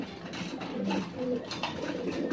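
Racing pigeons feed after arriving at a port, with soft low cooing and rustling close by and faint background murmur.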